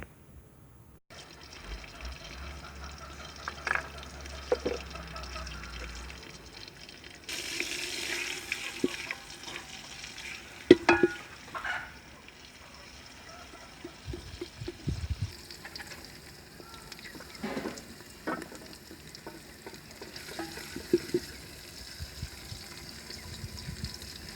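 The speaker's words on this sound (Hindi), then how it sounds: "प्याज का रंग सुनहरा होने तक इनको पकाएंगे" Steady sizzling of onions frying in a hot pan, with occasional stirring clatter and a brief burst of running water, no talking.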